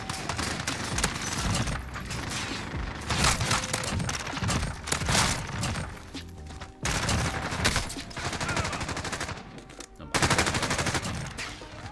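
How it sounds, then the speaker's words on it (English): Rapid submachine gun hipfire from a CX-9 in the Modern Warfare video game, dense continuous bursts of shots with brief gaps, loud and close throughout, a voice talking faintly underneath. "look how tight this hipfire is."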